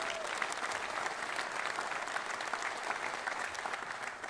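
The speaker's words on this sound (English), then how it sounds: "How about a round of applause for Colleen?" Audience applause at a university press event introducing a new men's basketball head coach: sustained, even clapping from a room full of people, steady in level for several seconds with no voices on top.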